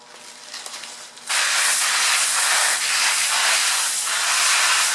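Water spraying hard over freshly harvested garden greens during rinsing, a sudden loud steady hiss starting after a quieter moment and running continuously, close and even with slight surges.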